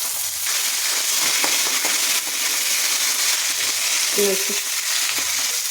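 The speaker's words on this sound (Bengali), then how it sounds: "কড়াতে পরিমাণ মতো তেল দিয়ে দিয়েছি। 5 ফোড়ন, জিরে ফোড়ন, তেজপাতা, শুকনো লঙ্কা আর চিংড়ি মাছগুলো দিয়ে দেবো।" Prawns fry in oil in a kadai with cumin, bay leaf and dried chilli, giving a steady sizzle with occasional stirring scrapes, close and even throughout, and a brief word spoken once.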